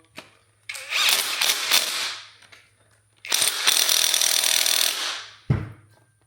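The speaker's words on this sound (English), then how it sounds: "washer, bolt, tighten it on" A power tool drives a bolt on a Focus ST rear coilover in two loud, close bursts of rattling impact-style whirring, each lasting a couple of seconds, followed by a sharp clunk.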